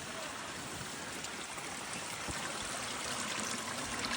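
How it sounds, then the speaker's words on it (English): A small waterfall splashes steadily into a koi pond in a continuous broadband trickle and rush of water, close and even throughout with no voices. "we got a waterfall from the first one going into this one"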